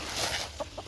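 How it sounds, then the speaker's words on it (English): A chicken near a garden pond gives two short, soft clucks in quick succession over faint outdoor background noise. "And then the chicken also wants up."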